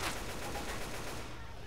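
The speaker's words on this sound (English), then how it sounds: "Can you stop shooting me?" Dense, rapid automatic gunfire in the Left 4 Dead 2 video game, a continuous loud rattle of shots filling the moment, with a voice faintly mixed in.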